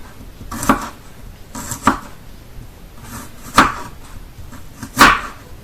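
Garlic is crushed and chopped with a knife on a board for Dutch-style pork loin, four sharp, close knocks spaced about a second apart over a quiet background.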